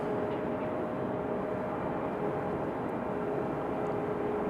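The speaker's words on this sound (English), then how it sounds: "So that 757 should put on a pretty good show departing out of here" A Delta Boeing 757 departs Raleigh-Durham International, a constant broad jet roar with a faint steady whine, loud and unbroken, no voices.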